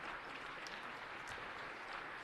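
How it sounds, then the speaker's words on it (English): Steady, even applause fills a city council meeting chamber for visiting students, a dense wash of many hands heard faintly from a distance. "Let's give them a round of applause."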